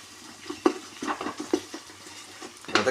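Mushroom biryani ingredients are stirred and sautéed in a pan, with rhythmic scraping strokes of a spoon over a soft, steady sizzle, heard close and alone.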